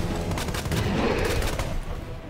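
Rapid gunfire from a player's weapon shooting at an enemy in the Resident Evil 2 Remake video game, a dense burst of overlapping shots that stays loud and constant through the whole moment.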